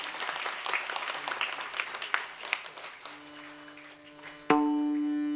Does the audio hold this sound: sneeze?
no